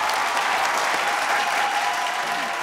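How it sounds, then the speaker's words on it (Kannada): Loud, steady applause from a studio audience on a television reality show for mothers fills the whole stretch, dense and unbroken clapping with no voices on top. "ಇವರಿಗೊಂದು ಜೋರಾದ ಚಪ್ಪಾಳೆ"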